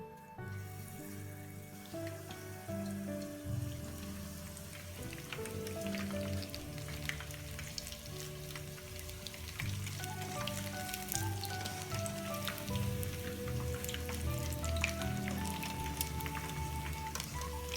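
Pieces of chicken for Japanese tori ten fry in hot oil with a continuous rain-like sizzle and crackle, steady and fairly quiet, under faint background tones and no talk.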